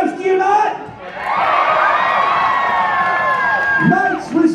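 A crowd at a jousting show at the Ohio Scottish Games cheers and whoops loudly for several seconds, with a voice shouting before and after.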